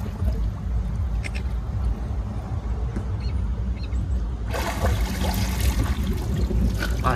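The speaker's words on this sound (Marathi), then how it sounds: "तर चला मस्त आपण आता स्नान करूया" Someone bathes outdoors in Rajasthan under running water that is slightly dirty, with a steady wash of trickling noise that swells into louder, closer splashing halfway through.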